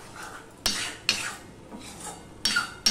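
Fish curry being mixed with chopped green chillies in a pan, heard as sharp utensil scrapes and clinks at irregular intervals over a soft stirring rustle, close and fairly quiet with no talking.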